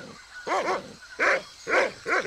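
A dog in the game Monkey Island 2: LeChuck's Revenge gives four loud, close barks in quick succession, with short gaps between them.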